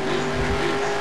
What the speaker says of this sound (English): Everyone's drifting.